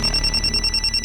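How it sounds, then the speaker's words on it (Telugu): A telephone rings in a steady electronic pattern, with bright pulsing tones repeating across the whole second over a low hum. "నా కూతురు ఫోన్ చేస్తోంది"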